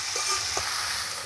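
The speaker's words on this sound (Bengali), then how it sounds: "মশলাগুলো দিয়েছি, এবার নাড়াচাড়া করে ঢাকা দিয়ে দেবো।" Taro stolons cooking with small fish and spices in a pan give off a brief, close hiss of sizzling, with a couple of soft scraping stirs.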